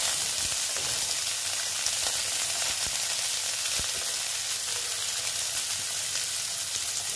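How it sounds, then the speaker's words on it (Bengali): Sliced bitter gourd frying in hot oil, a steady close sizzle with occasional soft stirring clicks, no voices. "উচ্ছেগুলো আমি ভালো মতন ভেজে নেব"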